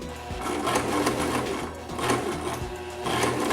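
A sewing machine stitches a label onto a wig, running close and loud in quick rhythmic bursts with brief pauses between them.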